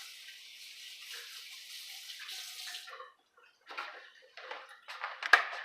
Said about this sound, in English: rinse this off real quick